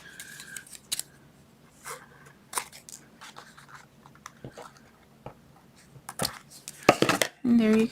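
Scissors snipping paper for a handmade coconut candy box, a run of short crisp cuts spread irregularly over the stretch, close up, with a louder burst of handling noise near the end.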